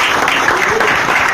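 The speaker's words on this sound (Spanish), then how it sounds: "les pido un fuerte aplauso" Loud, dense applause from a crowd at a political rally in San Vicente, close and continuous for a short burst of clapping.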